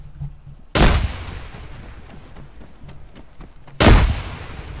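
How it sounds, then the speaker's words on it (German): Two loud, sharp blasts roughly three seconds apart, each with a booming decay, ring out over a low rumble of distant firing, like grenades exploding amid gunfire in the Arma 3 combat game; no voices. "Explodieren die? Granaten."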